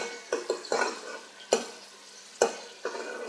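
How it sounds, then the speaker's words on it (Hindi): Ground onion paste frying in hot oil in a pan for a beef trotters curry, with a soft sizzle underneath several sharp stirring and scraping clatters of a utensil against the pot. "तेल गरम करके मैंने इसमें प्याज ग्राइंड करके डाल दिया"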